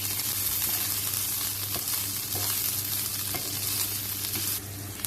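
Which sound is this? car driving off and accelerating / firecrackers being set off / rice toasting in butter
rice toasting in butter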